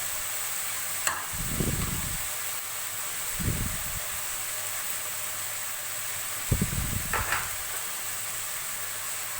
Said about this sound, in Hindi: मसाले डाल के अच्छी तरह फ्राई कर लेंगे